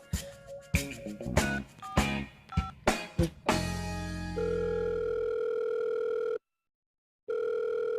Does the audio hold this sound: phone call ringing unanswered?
yes